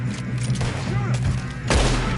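Gunfire in Red Dead Redemption II, a dense burst of shots with a heavy boom near the end, set against a constant low game rumble.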